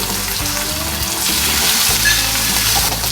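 Green chili, garlic and ginger fry in hot oil in a pan, giving a loud, steady sizzle close by, with a light stir partway through.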